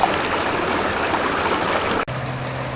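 Floodwater from a river rushes across plains in a dinosaur documentary, a loud, dense, steady roar of churning water that cuts off abruptly near the end, leaving a low hum.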